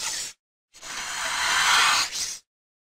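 A snake gives two breathy hisses, a short one and then a longer, steady hiss that swells before cutting off, close and fairly quiet with no other sound.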